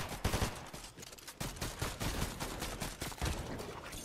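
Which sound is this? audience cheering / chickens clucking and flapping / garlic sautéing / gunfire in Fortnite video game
gunfire in Fortnite video game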